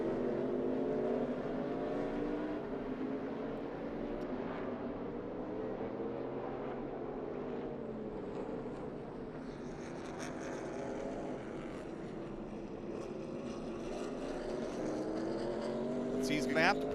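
Race cars of the ARCA Menards Series West at Sonoma Raceway, a steady distant engine drone that rises and falls across the whole stretch as cars run the track, with a commentator talking over it throughout.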